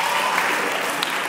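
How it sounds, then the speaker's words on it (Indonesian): Students at a motivational session at SMAN 103 Jakarta Timur clap for a classmate named Lovandra, a brief burst of dense, even applause from a large crowd. "Tepuk tangan buat Lovandra"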